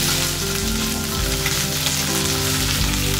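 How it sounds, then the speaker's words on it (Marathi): French beans sizzle loudly in hot oil in a pan, a dense, steady close-up frying crackle with faint stirring underneath and no talking. "तेल गरम झालं, यात आपण फरसबी घालतो। फरसबी आपल्याला तेलातून परतून घ्यायची।"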